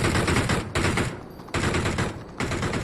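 An AK rifle fires in long automatic bursts inside a shooter game, loud and close, with dense rapid cracks broken by brief pauses.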